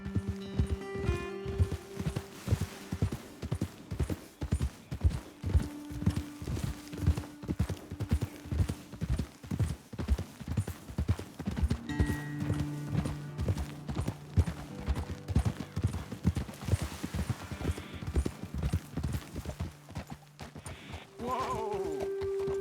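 Horse hooves in Red Dead Redemption 2 beat a steady, rapid galloping rhythm close by for a long stretch, with occasional bleats and tonal sounds in the background.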